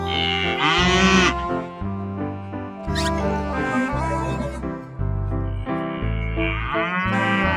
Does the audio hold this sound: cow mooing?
yes